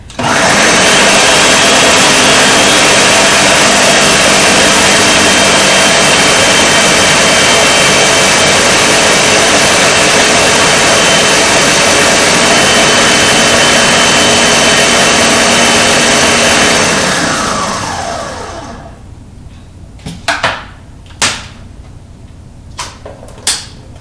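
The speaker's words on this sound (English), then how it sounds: "We got our trusty Ninja and we're gonna make it a blend. Okay, turn it on." A Ninja blender whirs loudly and steadily for about eighteen seconds while blending soup, then winds down and stops, followed by a few sharp clicks and knocks.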